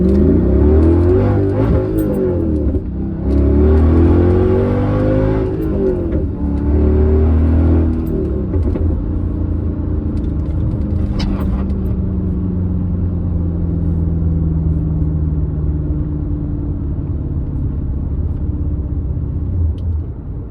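Manual-swapped Mercedes C55 AMG engine accelerating hard from inside the car, a loud deep rising roar that climbs through revs, drops at gear changes, then settles into a lower sustained drone.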